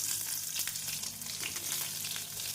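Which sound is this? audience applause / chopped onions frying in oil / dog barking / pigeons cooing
chopped onions frying in oil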